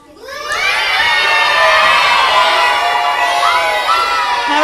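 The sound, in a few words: children cheering for their team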